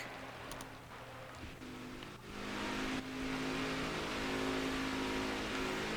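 NASCAR Next Gen race cars on the Sonoma road course in NASCAR Heat 5, engines droning and revving in a steady layered hum that swells after a quieter start, faint overall.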